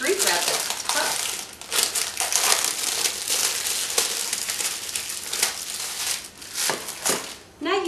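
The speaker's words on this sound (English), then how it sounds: "I'm just going to cut this, and off it comes. Shrink wrap is tough." Scissors snip and tear tough shrink wrap off a gift box, producing dense close crinkling and crackling plastic noise in irregular bursts, with a brief rustle near the end.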